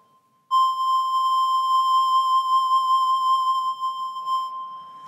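A steady pure tone from the Ocarina phone app, a touchscreen instrument whose pitch is set by touch and whose vibrato comes from tilting the phone. It sustains for about four seconds with gentle wavering, then fades into faint background noise.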